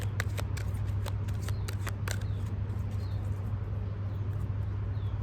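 Cards being shuffled and pulled from an advice card deck, a run of quick crisp riffling snaps in the first two seconds, then softer handling over a steady low hum, close and with no talking.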